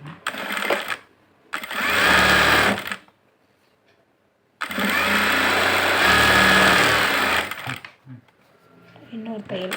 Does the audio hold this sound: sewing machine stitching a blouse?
yes